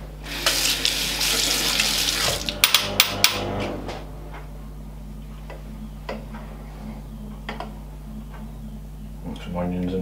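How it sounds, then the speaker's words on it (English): A spoon washed up under a running kitchen tap, a loud steady gush of water at first, then sharp metallic clinks and taps as the water stops, with a voice speaking briefly nearby. "I'll use that spoon, see if I can wash it up"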